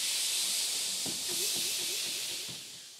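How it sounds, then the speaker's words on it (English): A steady, loud hiss of white noise fills the whole clip, with faint low tones wavering beneath it before it eases slightly at the end. "White noise contains all sound frequencies, and it sounds similar to a rushing waterfall or steam."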